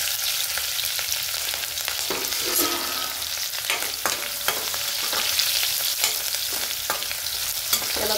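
Crushed garlic, green chili and cumin sauté in a hot oiled pan while a spoon stirs, cooking for a kurdai vegetable dish; a steady, close sizzle runs throughout, broken by frequent scraping and clicking strokes.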